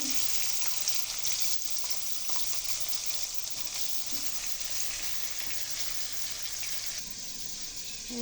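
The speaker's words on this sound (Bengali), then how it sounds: "গরম হয়ে গেছে মাছগুলো দিয়ে দিচ্ছি আপনারাও পারলে এভাবে ভাজি করে নেবেন" Tilapia fish fry in hot oil with a quiet, steady, even sizzle and hiss that stays fairly faint throughout, with no talk.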